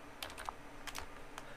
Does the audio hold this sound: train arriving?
no